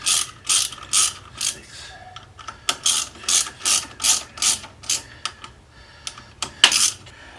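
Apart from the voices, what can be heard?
ratchet tightening clutch cover bolts on a Honda Grom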